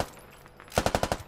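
A quick burst of about six evenly spaced shots from an automatic weapon in the military shooter game Squad, fired to suppress enemies, sharp and fairly close after a quiet lead-in.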